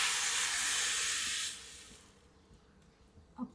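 Steam hissing loudly from a pot of drumsticks (shevga pods) set to cook, a steady broad hiss that cuts off after about a second and a half, leaving faint kitchen noise.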